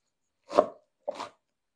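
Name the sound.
chopping fresh herbs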